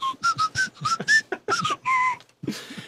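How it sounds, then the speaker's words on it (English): A person whistles the Harlem Globetrotters tune, a quick series of clear, bouncy notes in short phrases, close and alone. "As I'm trying to whistle the Harlem Globetrotters."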